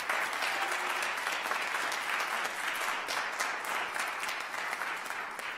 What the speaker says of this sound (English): So let's give a big round of applause to George.